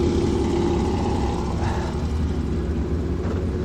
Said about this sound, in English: we can hear the burbleness at the back there from our Porsche Cayman